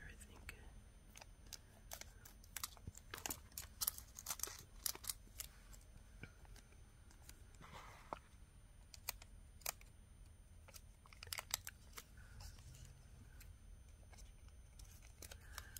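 Scissors snip close and quiet through a bead package label, a few short crisp cuts among soft rustling and handling noise in a still room.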